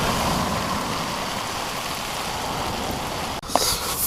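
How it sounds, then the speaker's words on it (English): Steady rain falls on a winter night beach at Aldeburgh during a fishing outing, a dense, continuous hiss close by with a brief rustle near the end. "what's fishing without a bit of rain, eh?"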